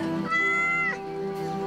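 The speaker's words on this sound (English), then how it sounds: "Ooh, a cat." A cat in the video game Yes, Your Grace gives a single clear, drawn-out meow, close and loud with a rising then falling pitch, with no talking over it.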